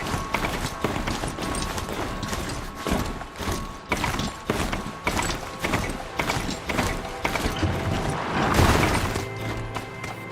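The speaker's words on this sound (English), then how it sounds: "Machines. Looks like they've been chained up." Robotic machine creatures from the open-world game Horizon Zero Dawn move about with steady clanking, clopping mechanical footfalls and thuds, continuous and fairly close, with a louder metallic crash near the end.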